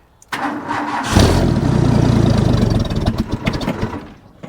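An old Ford bullnose 300 engine, newly converted from a one-barrel to a two-barrel carburetor, cranks and catches after a brief pause, then runs loud and rough up close with uneven revving before easing down.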